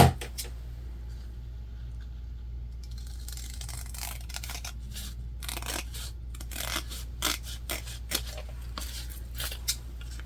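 Scissors trimming the fabric sides of a sewn mini backpack, heard as a series of close, crisp snips and cuts coming in irregular clusters over a quiet background hum, with no talking.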